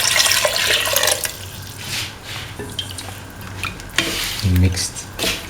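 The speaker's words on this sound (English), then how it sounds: "Now pour in 300 ml of water." Water is poured into a cooking potato and chickpea mixture in a pot, giving a steady wet splashing and sizzling wash with a brief louder gurgle near the end, close and fairly loud, with no voices.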